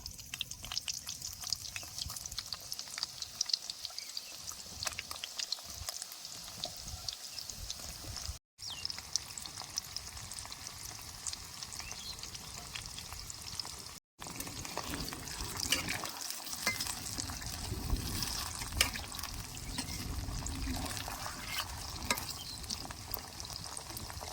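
Soybean chunks fry in hot oil for a crispy snack, giving a steady, moderately quiet sizzle with occasional stirring scrapes and two brief dropouts, with no voices.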